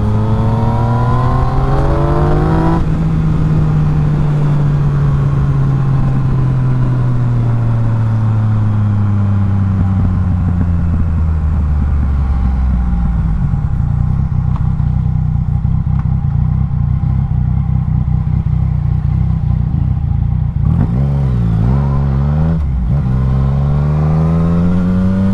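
Loud, close engine roar of a Yamaha MT-09 naked motorcycle revving and accelerating continuously, pitch climbing and falling through gear changes, with a rough clattering edge.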